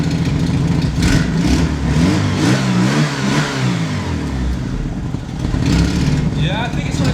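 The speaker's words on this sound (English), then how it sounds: "I think it's running all 4 cylinders today" A Mk2 Golf GTI engine runs steadily on all four cylinders after new spark plugs, leads and timing work, a continuous close-up rumble that rises and falls slightly throughout.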